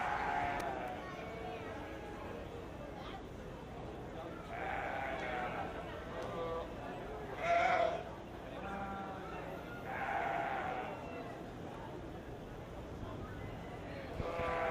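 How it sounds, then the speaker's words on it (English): Blackface market lambs bleat now and then in a sheep show ring at a 4-H/FFA fair, faint and intermittent beneath an announcer's voice and crowd noise. "Entering the ring now is our Class 4 Blackface Market Lambs."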